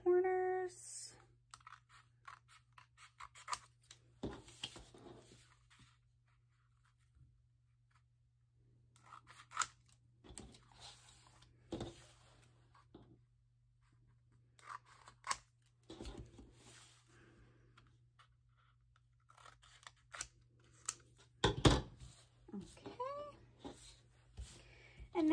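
Cardstock being trimmed for a 5x7 interactive mini album, heard as scattered sharp crisp cuts and paper rustles in short bursts separated by quiet pauses, over a faint steady low hum.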